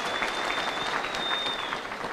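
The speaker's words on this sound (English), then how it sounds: "Let's give them a clap." Steady applause from an audience at a public church service event in Embu, dense and continuous clapping filling the space for a couple of seconds with no talking over it.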